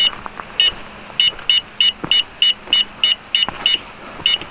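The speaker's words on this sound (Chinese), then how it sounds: "现在你们可以听到磁场的这个有哔哔叫的声音哈。" An electromagnetic field anomaly detector in Japan's Inunaki Tunnel area gives a loud, evenly spaced series of short, high electronic beeps, roughly three per second, over faint background noise.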